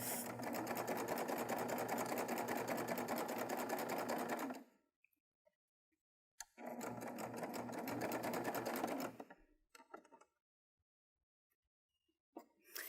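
A Baby Lock Triumph 8-thread serger fitted with a single downturn feller attachment runs in two loud, steady bursts of rapid stitching, each lasting a few seconds, with short pauses and faint handling noises between them.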